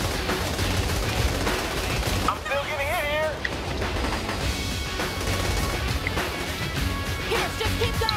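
Machine gun fire in Saints Row: The Third blends into a loud, chaotic din of game action, while someone talks over it.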